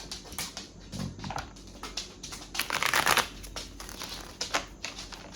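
A tarot deck is shuffled at close range in soft, irregular bursts of riffling and sliding cards, quiet and on its own without any speech.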